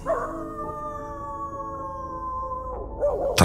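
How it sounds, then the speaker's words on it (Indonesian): A dog howls in the distance, one long, drawn-out wavering tone that holds steady for a few seconds before breaking off, set against a faint background hum. "dari kejauhan aku mendengar suara anjing melolong"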